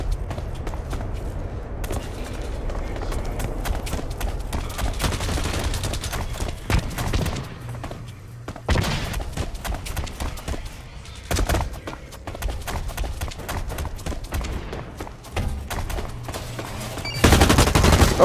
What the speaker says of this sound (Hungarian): Hallok lövöldözést.